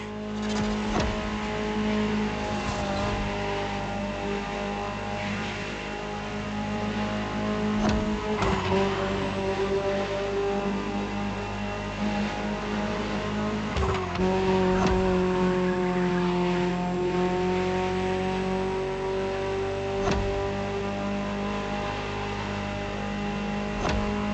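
A Ferrari supercar engine revs in The Crew Motorfest racing game, a continuous loud engine drone with pitch rising and falling through several gear changes and throttle surges.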